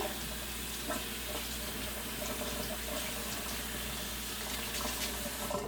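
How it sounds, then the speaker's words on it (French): Pineapple is rinsed under a running kitchen tap, a steady, even rush of water splashing continuously throughout with no talk. "Vous voyez, je rince."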